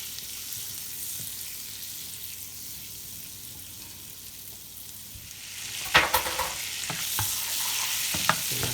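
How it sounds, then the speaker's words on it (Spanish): Butter and vegetables frying in a pan for rice with green bell pepper and onion, a low steady sizzle that swells after a few seconds as ingredients drop in, followed by sharper stirring scrapes, no talk. "Pues vamos a echar nuestra mantequilla y lo vamos a guisar."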